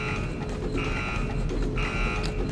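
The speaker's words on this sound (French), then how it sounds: "Un truc qui fait des bips et des flashs." Electronic beeping tones from a security device in Resident Evil 4 repeat in long pulses over a dense background hum, loud and steady, like an alarm device.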